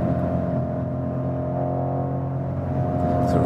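Steady, low rumbling car engine drone with a constant deep hum, close and continuous throughout, with no voices.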